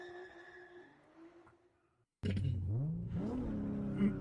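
A car engine revs up from a video being played back, loud and close, rising in pitch after a quieter passage of other sound.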